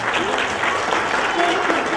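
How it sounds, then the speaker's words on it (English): A room of guests at a holiday party applauds the staff, steady dense clapping filling the whole stretch with a faint murmur of voices underneath. "So if you could give a round of applause to your staff."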